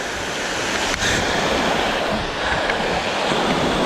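A hidden waterfall in Gujarat rushes in a continuous, loud, broadband roar heard up close, with a brief knock partway through.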